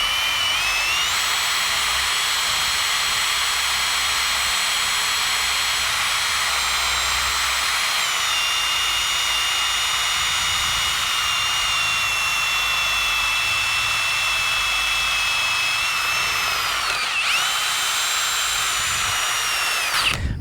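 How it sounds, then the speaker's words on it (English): A power drill bores a hole into a wooden fence brace post outdoors, a steady loud whine running nearly twenty seconds with slight pitch dips and a brief pause near the end. "Okay, we got that hole drilled."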